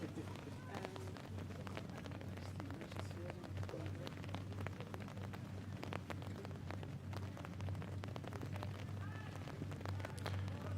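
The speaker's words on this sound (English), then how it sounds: "You can hear there the rain has gotten heavier again" Heavy rain at a cricket ground on a grey Irish day, a dense, constant hiss of drops hitting surfaces, loud and steady throughout, with faint voices underneath.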